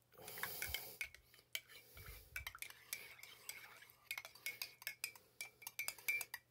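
A spoon clinks and scrapes steadily inside a container while someone stirs sugar into a humanitarian ration mix, with close, quiet, rhythmic strokes and a faint low hum beneath.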